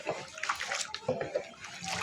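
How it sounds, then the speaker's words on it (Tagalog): Hot water being poured over eggs while coloring salted eggs, a close sloshing, splashing pour that surges and eases in uneven bursts over a couple of seconds. "Bubuhusan natin ng tubig."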